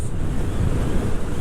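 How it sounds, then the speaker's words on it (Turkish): Strong wind roars and buffets the microphone in a dense, rumbling rush, loud and unbroken for a moment, while riding a Mondial scooter at around 90–100 km/h. "Oo rüzgar çok savuruyor."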